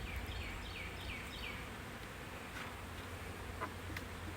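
A honeybee package hums with a steady, soft buzz of many bees, faint and continuous, with a few individual bees droning past up close.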